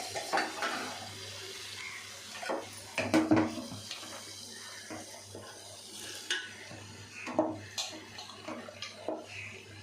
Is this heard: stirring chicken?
yes